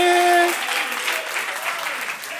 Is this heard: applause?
yes